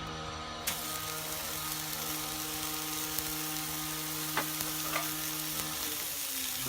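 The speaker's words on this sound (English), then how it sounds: "I'm going to put the burgers on" Smash burgers sizzle and fry steadily in ordinary oil on a hot surface, a dense continuous crackle with a low steady hum beneath and a few soft clinks of a utensil.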